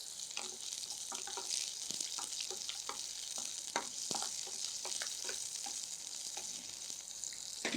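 Steady hot-oil sizzling of capsicum (bell pepper) frying with irregular scraping and stirring clicks, close up and fairly quiet, no talking.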